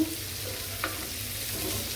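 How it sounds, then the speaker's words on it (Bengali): Hilsa fish pieces frying in a pan for ilish polao, giving a soft, steady sizzle with a brief clink of stirring partway through and no talking. "হালকা আমি একটু ভেজে নিব। ভাজাটা নিলে ইলিশ পোলাওটা খেতে ভালো লাগবে।"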